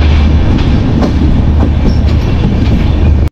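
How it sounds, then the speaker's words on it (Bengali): The Drutojan Express, a Dhaka to Panchagarh night train, runs along the rails in a loud, continuous rumble with rhythmic clacking of the wheels, heard close from on board. "যাত্রা বিরতি দিয়ে আবারও ট্রেন সামনের দিকে ছুটে চলেছে"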